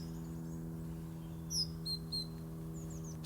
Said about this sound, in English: Surrounded by birds.